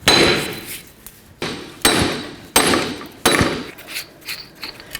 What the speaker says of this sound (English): So just going to give it a good whack.